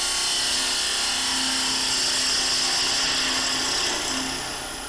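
A woodturning tool cutting across a wooden box spinning on a lathe, a steady loud whirring scrape with a constant hum that fades slightly at the end.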